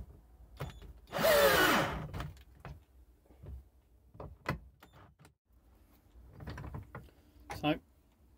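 A socket bit on a power driver tightens a coach bolt into a wooden garden fork handle, giving one loud, sustained whirring burst of about a second. Quieter knocks and handling follow, with occasional faint talk.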